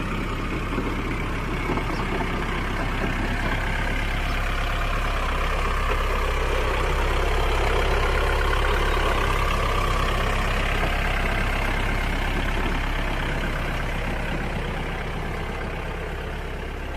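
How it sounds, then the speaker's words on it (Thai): A rice combine harvester's engine idles on a farm with a steady, loud, unbroken rumble that holds even throughout, with no voices over it. "มาแล้วค่ะ รถเกี่ยวข้าว"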